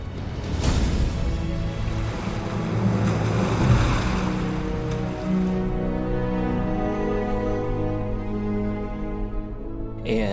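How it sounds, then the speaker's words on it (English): Open sea surrounding Rose Atoll, a marine national monument: a broad, steady rush of surf and wind with a heavy swell early on, overlaid by a low droning hum that holds throughout. "The remaining part of the equation is the vast sea that surrounds Rose Atoll"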